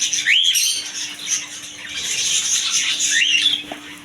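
Pigeons and cage birds in a bird shop, with bright chirps and squawks repeating over a busy background of bird calls and a faint steady hum.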